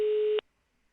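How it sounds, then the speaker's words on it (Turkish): Telephone tone heard while placing a call in a Minecraft roleplay: a single steady electronic beep holds for about 0.4 seconds, then cuts off cleanly into silence, loud and close. "Tamam arıyorum. Evet çalıyor fakir."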